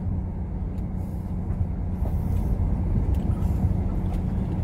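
A continuous low rumble of a Norfolk Southern freight train rolling past nearby in Tennessee, steady and heavy with faint rattling on top.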